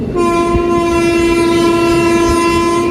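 A loud, sustained train horn blares continuously at close range over the rumble of a moving passenger train on the Erode–Mettur line.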